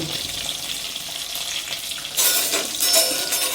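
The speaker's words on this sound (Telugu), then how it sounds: "ఇప్పుడు పల్లీలు వేస్తున్నా" Peanuts fry in a pan with a steady, close sizzle that swells sharply about halfway through as they are stirred, with no voices present.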